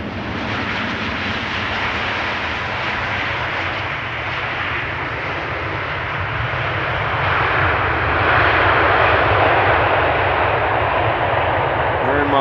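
An Aeromexico airliner touches down with a broad, steady roar that swells slightly toward the end as the thrust reversers build, heard from a distance at a busy airport.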